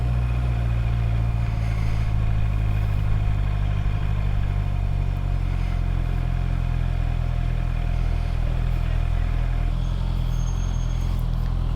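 A Honda CB650R E-Clutch motorcycle on the move, heard from the rider's position: a continuous engine drone with a steady rumble and a slight shift in tone near the end, and no talking.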